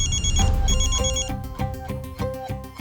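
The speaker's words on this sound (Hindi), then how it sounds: "देखा, आ गया फोन।" A phone ringtone plays loudly for an incoming call, a bright chiming melody over a thumping beat that repeats in a steady pattern throughout.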